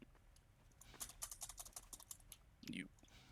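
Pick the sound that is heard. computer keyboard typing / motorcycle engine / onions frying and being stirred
computer keyboard typing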